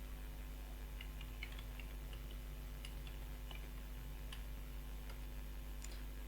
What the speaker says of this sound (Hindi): तो एक बार मैं टाइप कर लेता हूँ इसके अंदर।